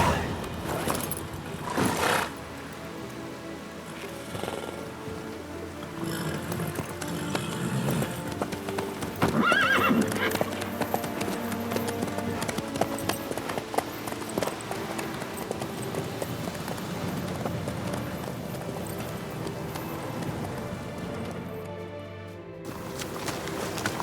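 Horse hooves clip-clop steadily in The Witcher 3, a continuous rhythmic trot over ground with occasional whinnies and neighs, moderately close, layered with background game ambience.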